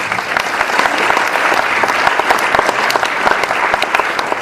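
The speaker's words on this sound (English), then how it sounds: "Please give them a round of applause" An audience applauds steadily as guests come onto a stage at a Sadhu Vaswani Mission event, dense sustained clapping that stays loud and even throughout.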